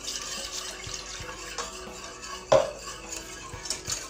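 A spoon stirs milk and flour pastry cream for Portuguese custard tarts in a pot, making soft scraping swishes with light clinks against the metal and one sharper knock midway.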